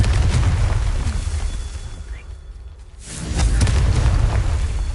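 A blasting-spell explosion in the video game Hogwarts Legacy: a loud, close boom with a rushing whoosh, a brief dip, then a second heavy rumbling blast, with no talking.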